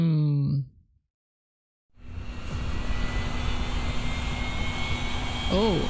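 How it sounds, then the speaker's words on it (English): A private jet engine in the Yakuza 3 video game drones steadily and loud after a brief voice and a silent gap, holding a broad even roar with a faint tone running through it. "Are we taking a private plane?"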